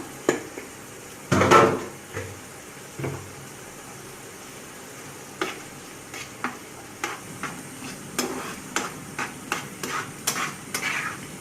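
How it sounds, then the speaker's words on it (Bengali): Rui fish with turmeric, chili and coriander powder being stir-fried in a pan over low heat gives off a steady sizzle, broken by repeated scraping and clacking strokes of a spatula, with one louder clatter near the start. "তিন মিনিটের মতো আমি এভাবে কষিয়ে নিব। চুলার জালটা কম করে দিয়ে এভাবে কষাবো।"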